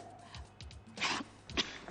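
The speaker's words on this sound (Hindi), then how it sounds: "वो छींकती कसकर, छींका उसने कविता पढ़कर" During a poetry recitation in a school classroom, a person gives a couple of quiet, fairly close sneezes about half a second apart, with faint softer noises before them.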